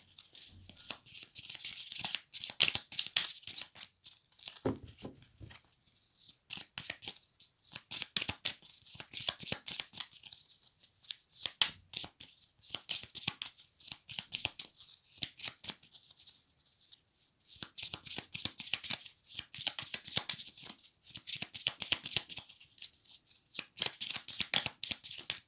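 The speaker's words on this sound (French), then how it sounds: "Je vais maintenant demander une carte à la sagesse de Bouddha pour voir un petit peu quel message" Oracle cards are shuffled by hand in repeated bursts of crisp riffling and sliding, close and fairly loud, with brief pauses between rounds and no talking.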